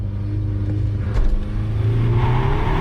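A car under launch control in sport mode holds about 3,200 RPM and then pulls away hard, the loud engine note climbing steadily in pitch as it accelerates close by, with no talking.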